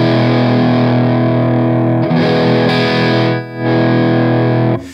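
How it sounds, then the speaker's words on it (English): Reverend Charger HB electric guitar played through its distorted neck pickup with the bass rolled down, loud sustained chords ringing out with a brief dip in the middle and no talking. "Listen to how it changes a little bit as you roll the bass down on this dirty side."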